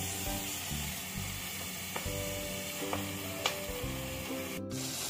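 Fish paturi, Bengali fish wrapped in leaves, cooks on a covered tawa with a continuous, steady sizzle and bubbling, broken by a few faint clicks and a low hum.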